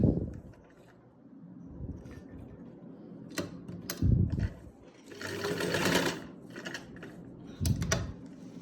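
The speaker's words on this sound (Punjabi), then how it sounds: "ਇਸ ਤਰ੍ਹਾਂ ਕਰਕੇ ਸਲਾਈ ਆਪਾਂ ਲਾਉਣੀ ਸ਼ੁਰੂ ਕਰਾਂਗੇ" Sewing machine stitching a garment's front and back neck: intermittent whirring runs of a second or two, with loud thumps and clicks between them as the fabric is handled, close up.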